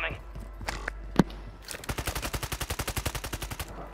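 Rapid automatic gunfire in a shooter video game, a fast even string of about twenty loud shots after a few scattered single bangs and a brief voice.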